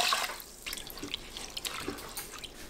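Washed rice is shaken in a sieve to drain off the water, giving irregular close splashes and patters of dripping water in quick, uneven bursts with no voices.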